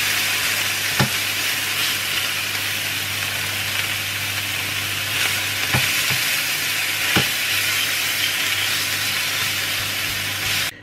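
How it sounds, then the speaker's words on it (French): Food grilling in a hot frying pan, a loud continuous sizzle and hiss throughout with a few faint clicks of utensils, close up and without speech. "Donc ma poêle est chaude. Je vais les faire griller tout simplement."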